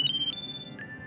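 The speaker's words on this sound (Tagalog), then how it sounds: "Cellphone ko." A cellphone ringtone plays a short, bright electronic melody, a few tones then a higher sustained note, fairly clear over a low background hum in an indoor scene.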